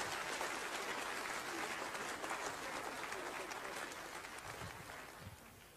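A lecture audience gives a dense burst of clapping that fades gradually toward the end. Muffled voices stir beneath it.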